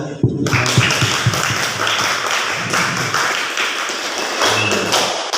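Applause from an audience, a dense, steady patter of clapping hands that fills the whole stretch at a fairly loud level, with no voices over it.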